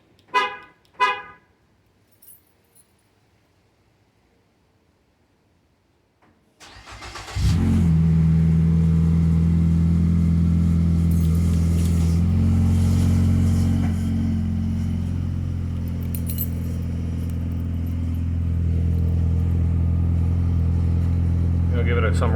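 A 2015 Ford Fusion 1.5L with its muffler deleted and an aftermarket tip cold-starts after a few seconds of quiet: the starter catches, then the engine settles into a loud, steady, deep idle with slight swells close by.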